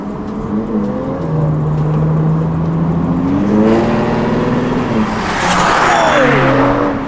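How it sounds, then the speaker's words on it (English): A Ford Mustang engine revs loudly and close by, its pitch climbing and falling, then a burst of crackling exhaust pops near the end. "my Mustang can pop too"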